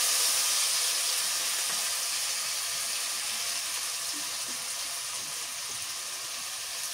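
Onion, chili and garlic paste fries in oil with a steady, moderate sizzling hiss that continues evenly throughout, with no voices.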